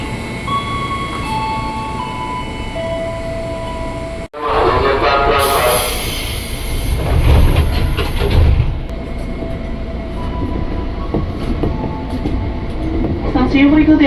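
An Indonesian KRL commuter train rumbles and clatters as it pulls away from Pondok Ranji station, with a sharp clunk and rising mechanical noise, loud and close, over faint background voices and tones.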